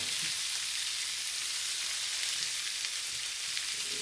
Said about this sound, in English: The onions in there start cooking good.